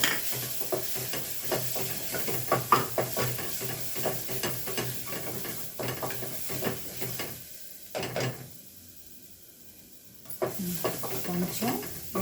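Cabbage with turmeric and chili powder sizzles in a pan while a spoon scrapes and stirs it in repeated close strokes. The frying pauses briefly and then resumes.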